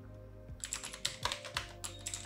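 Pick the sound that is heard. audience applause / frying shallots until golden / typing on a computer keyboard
typing on a computer keyboard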